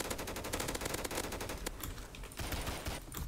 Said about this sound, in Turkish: Abi 30 mermiyi de vurdum kafasına